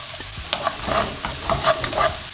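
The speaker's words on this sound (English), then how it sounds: "When the pan is nice and hot, in with a touch of oil. In with your onions." Onions hitting a touch of hot oil in a pan and being stirred, a bright crackling sizzle with several quick scraping bursts over a couple of seconds, close and loud.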